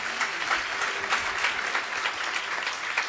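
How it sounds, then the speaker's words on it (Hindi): A church congregation at a Wednesday prayer meeting claps together, with moderately loud applause swelling in soft pulses for a few seconds. "जोरदार तालियां बजाएं।"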